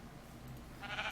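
A sheep in Minecraft with the Better Than Wolves mod gives a short, faint bleat near the end over quiet game background.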